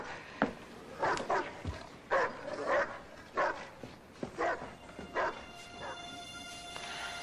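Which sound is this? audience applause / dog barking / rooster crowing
dog barking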